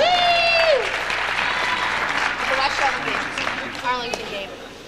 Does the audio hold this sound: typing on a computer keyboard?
no